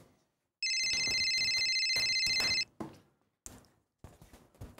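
A telephone rings with a steady electronic trill for about two seconds, loud and close, in a Malayalam comedy serial home scene, followed by short clattering noises.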